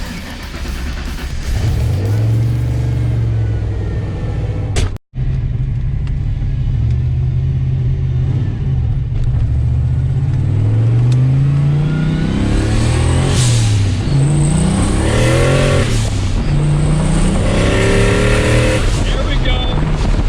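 A turbocharged Foxbody Mustang with an On3 turbo kit accelerates hard on a drive, its engine note climbing and falling through repeated revs and gear changes, loud and close, with a brief dropout early on and occasional voices.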